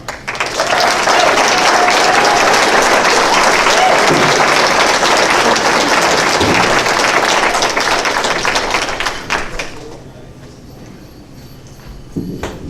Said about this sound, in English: so can we give Joe a great round of applause